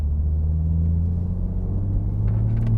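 A 2020 Toyota Supra engine's deep rumble builds steadily as it is floored in fifth gear from about 1,000 RPM, a low continuous roar climbing gradually in pitch, with no talking.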